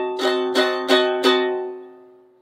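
A diminished seventh chord sounded four times in steady succession on a piano-like instrument, each strike ringing with clear sustained tones that layer into a lingering decay, played alone and close.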